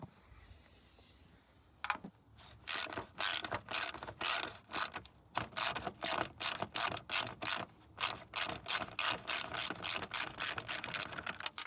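Rapid ratchet wrench clicking while loosening fan shroud bolts on a Ford 7.3 Powerstroke diesel truck, a quiet pause then a long run of sharp, evenly spaced bursts close to the mic.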